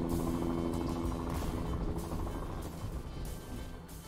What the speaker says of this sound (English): Oh, I hear that old chopper coming.